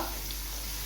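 Onions sizzling and frying in a pan while being stirred, a steady continuous hiss with no talk, even and close throughout.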